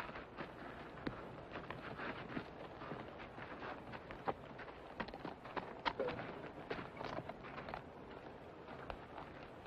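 Horse hooves clip-clop at a steady walking pace through a 1964 western film scene, moderately close and persistent against a dense, noisy background, with no talk over them.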